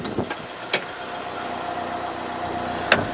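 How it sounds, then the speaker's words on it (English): A car engine idles with the bonnet open, a steady low hum running throughout, broken by a few sharp metallic clicks and knocks from the latch and bonnet. "My spare key so we can keep the engine running."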